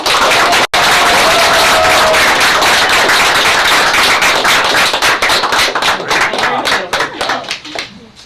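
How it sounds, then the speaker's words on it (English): A large crowd at a county fiscal court meeting applauds loudly and steadily, the clapping thinning out and fading toward the end. "I think you all deserve a big round of applause"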